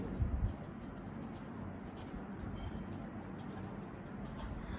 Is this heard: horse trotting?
no